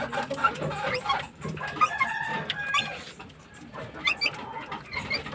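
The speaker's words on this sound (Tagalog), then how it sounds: "dito pa yung mga sisiw. Ito ano na yung mga sisiw." Young chicks peep in a quiet setting among other chickens, with high, thin chirps scattered through the stretch and some clucking and background noise near by.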